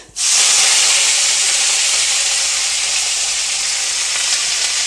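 Mustard seeds, cumin and curry leaves hit hot oil for upma, bursting into a loud, close, steady sizzle that starts abruptly and holds without pause, with no talking.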